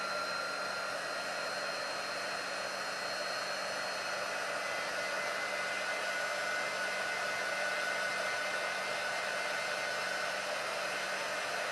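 A hair dryer runs steadily and close by, drying chalk paste on a sign, a constant whooshing roar with no breaks and no talking.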